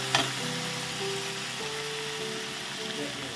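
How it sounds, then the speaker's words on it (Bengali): Spices fry in oil for green jackfruit kofta, making a soft, steady sizzle with a brief stir or clink at the start, faint and continuous beneath low background hum. "মশলা কিন্তু অলরেডি ভাজা ভাজা হয়ে যাচ্ছে"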